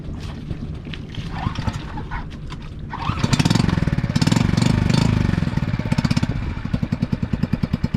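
Suzuki 6 horsepower outboard boat engine, somewhat rusty after two years, being started for a test: quieter clatter at first, then it catches and runs with a loud, rapid, even putter close by.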